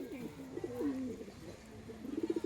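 Soft pigeon coos roll out close by, a few throaty warbles followed by a quicker burst of cooing near the end.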